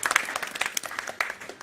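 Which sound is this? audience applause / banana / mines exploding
audience applause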